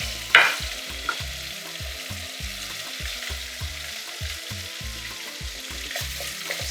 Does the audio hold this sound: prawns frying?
yes